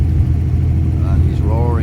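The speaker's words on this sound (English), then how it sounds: "The bus driver is driving the bus" A bus engine drones steadily from inside the moving vehicle, a low rumbling hum beneath a voice speaking over it, with a brief rising tonal sweep near the end.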